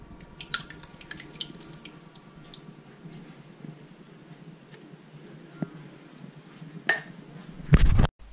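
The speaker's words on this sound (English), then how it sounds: "when you're adding the water" Water trickling and dripping into a pot of pasta sauce made with tinned tomatoes and spices, with light splashes and clinks scattered over a quiet background, then a louder pour and clatter near the end.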